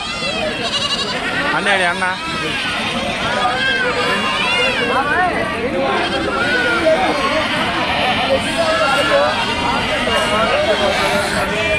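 Goats and young kids bleat repeatedly and overlap in a busy outdoor goat market, amid a steady hubbub of crowd noise and someone talking close by.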